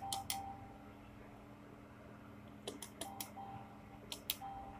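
Someone types a mobile number on a keyboard: a handful of soft, scattered key clicks in small bursts, faint against a quiet room with a low fan hum.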